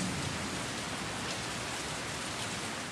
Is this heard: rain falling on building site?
yes